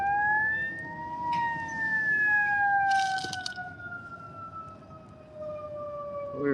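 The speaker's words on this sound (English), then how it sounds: "There is the flipping fire truck right in front of us now." A fire truck siren wails nearby on a motorway, its rising and falling tone sweeping steadily over continuous road rumble, with a short burst of hiss partway through.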